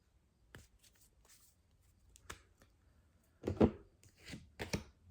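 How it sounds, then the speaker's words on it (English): A deck of playing cards being cut and handled close up: a few soft, sparse taps, then a short papery riffle, in an otherwise quiet room. "Look, I just cut the deck."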